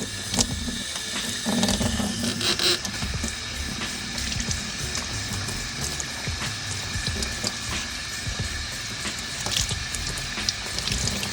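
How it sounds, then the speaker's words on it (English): Water runs steadily over bleach tie-dye fabric being rinsed out, a continuous close splashing wash with no pauses and no talking. "So what we're gonna do now is rinse all this stuff out"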